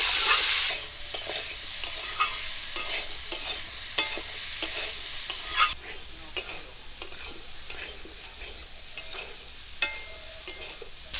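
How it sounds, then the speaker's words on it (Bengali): Vegetable greens stalks stir-fried in a pan with salt and turmeric: a steady, close sizzle broken by repeated scraping stirs, loudest at the start and then settling into a continuous fry. "লবণ আর হলুদ দিয়ে ডাঁটাগুলোকে আর একটু ভাজা করে নেব"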